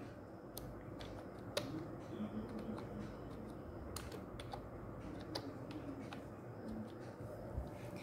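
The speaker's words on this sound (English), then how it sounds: "Type with one finger" Slow single-finger typing on a computer keyboard, sparse distinct key taps at an irregular beginner's pace over a quiet background hum, close and fairly faint.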